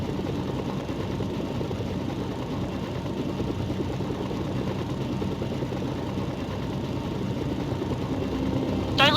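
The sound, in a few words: helicopter engine in a video game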